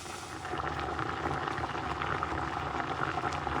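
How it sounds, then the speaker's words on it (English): Water for rice boiling hard in a cooking pot, a dense, steady bubbling and rushing hiss that stays even and close throughout, with no talking. "Water is boiling."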